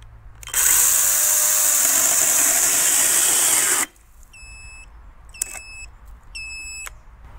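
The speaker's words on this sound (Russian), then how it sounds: "сработала защита, и пила об этом просигнализировала" A Sturm CC9930CL cordless brushless chainsaw cuts loudly for about three seconds under heavy pressure and abruptly stops as overload protection trips, then a beeping alarm sounds in three short repeated bursts of tones.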